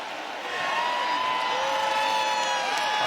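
A large college football crowd cheers at Autzen Stadium, the roar swelling after a quieter start and holding steady, with whoops and a few sustained shouts carrying above the broad wash of noise.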